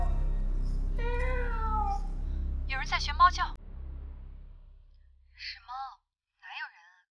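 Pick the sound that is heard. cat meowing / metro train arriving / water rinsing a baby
cat meowing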